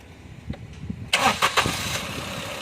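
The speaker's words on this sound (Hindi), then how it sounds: "सर गाड़ी चालू कीजिए, अभी देखते हैं।" A Maruti Celerio with a misfire, fitted with a new ignition coil, cranks and catches, a sharp burst of starter and engine noise followed by a steady idle close by after a quiet lead-in.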